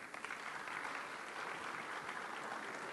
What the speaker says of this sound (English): So I'd like for all of us to give a round of applause to all the young Pakistanis who are present here.